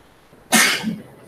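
A single sharp sneeze bursts out close by during an office sales meeting, loud and brief, breaking an otherwise quiet room.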